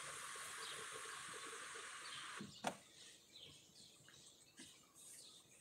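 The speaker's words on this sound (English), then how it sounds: "Can y'all hear the birds?" Faint bird chirps sound outdoors through an open car window after a whirring window motor stops, with a sharp click and light background rustle.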